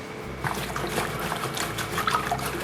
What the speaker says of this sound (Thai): อันนี้คือล้างเอาตัวดินออกนะครับ